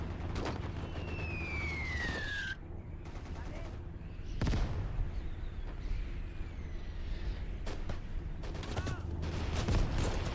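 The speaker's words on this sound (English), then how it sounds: "they got a damn Lee gun shooting at us" Rapid heavy gunfire from a Lee tank gun in the WWII real-time strategy game Gates of Hell, with loud overlapping shots and bursts over a dense battlefield din, a whistling shell streak early on.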